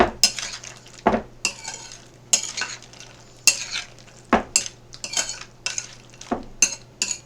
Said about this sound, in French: pour mélanger tous les légumes fines herbes ensemble